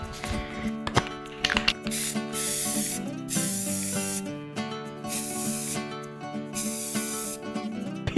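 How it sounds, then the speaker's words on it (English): A spray paint can hisses in several sustained bursts with short pauses between, close and clear, while crafting a homemade wind chime, with a soft tonal melody running underneath. "And then we're gonna spray."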